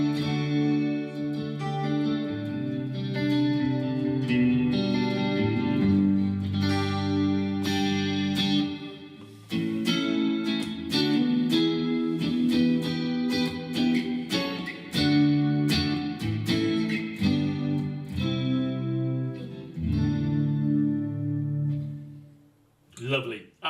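Clean electric guitar chords and arpeggios through a Quad Cortex amp model, the Rothery Clean, with a shimmering chorus effect and no delay, ringing and sustained, with a brief pause partway through.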